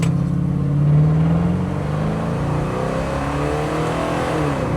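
A 1967 Chevy Chevelle accelerates down the road, its engine pulling up through the revs with audible gear shifts around 4,200 RPM, a loud and fairly close rising drone that dips and climbs again.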